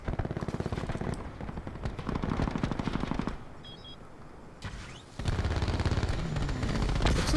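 Rapid KAP 45 pistol fire in the video game Black Ops 4 sounds as fast, crackling bursts, loud and close, with a quieter gap of a second or so midway before the shooting resumes, and no talk.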